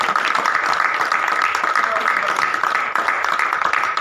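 A crowd at a Diwali running race in a village stadium applauds the runners with dense, steady clapping, loud and continuous throughout.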